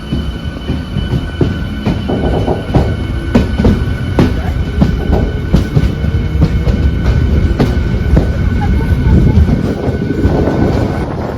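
A Panvel-Chiplun Diwali special MEMU train runs loud and close, a continuous rumble broken by regular rhythmic clicks of wheels over rail joints, with faint voices in the background.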